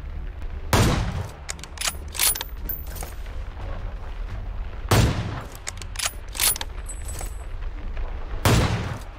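Gunfire in the mobile battle royale game PUBG Mobile comes as three loud, sharp bursts spaced a few seconds apart, with lighter clicks and mechanical rattles between them.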